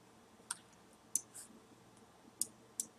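A computer mouse clicks on an eBay listing: four sharp, close clicks spaced unevenly over about three seconds against a quiet, faint background hum.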